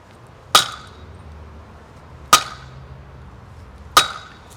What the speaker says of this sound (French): On donne des coups de marteau.